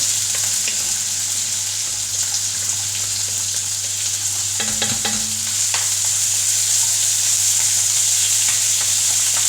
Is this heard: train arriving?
no